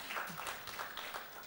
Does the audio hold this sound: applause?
yes